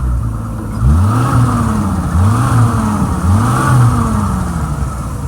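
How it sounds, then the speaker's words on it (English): Engine of a 2002 Harlan HTLPAG airplane tow tractor with 322 hours, revved up three times in a row, each loud rise and fall heard up close over a steady idle. "Let me rev it up for you."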